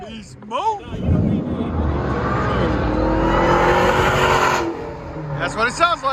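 A Dodge Challenger Hellcat with a supercharged 6.2L Hemi V8 and straight-pipe exhaust with valve delete roars loudly and steadily for several seconds, then settles back toward a rumbling idle, with people talking at the start and end.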